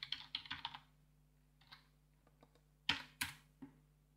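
A command typed on a computer keyboard, quiet close clicks in a quick burst, then scattered single taps and two sharper key strikes near the end.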